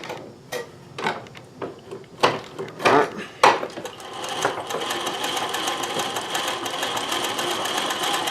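A Consew CN2053R-1A industrial sewing machine mounted in a domestic treadle table stitches, with a few sharp knocks and adjustments at first, then a steady, continuous close-up whirring run of stitching without talk.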